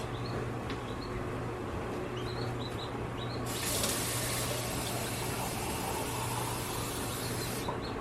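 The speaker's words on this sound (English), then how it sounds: "I'm going to add some cold water to this." Cold water pours from a tap into a pot of dissolved sugar syrup while white peaches are being prepared, a steady, loud hiss of rushing water that swells partway through and runs continuously, with faint bird chirps in the background.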